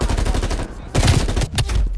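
Gunfire in the Call of Duty Cold War video game: dense, loud bursts of shots running steadily through the whole stretch, with heavier impacts midway and no voice over them.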